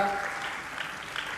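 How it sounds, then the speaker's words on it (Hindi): Applause from a gathered audience welcoming CP Jain at a religious question-and-answer session, a fairly faint wash of clapping that tails off, with a voice briefly heard at the start. "आप लोग जोरदार तालियों से एक बार स्वागत कर दें सीपी जैन साहब का"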